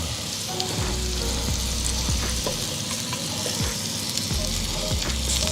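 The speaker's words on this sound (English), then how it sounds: "we just want to sear them, let them get some of that color," Pork chops searing in a preheated cast iron pan over a medium flame, giving a loud, continuous close sizzle with dense crackling and a few low thumps, no voices.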